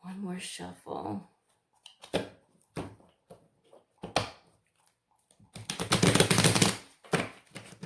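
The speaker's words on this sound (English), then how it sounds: "One more shuffle." Tarot cards shuffle in several short riffling bursts between pauses, ending in a longer, louder flurry, with a voice speaking briefly at the start.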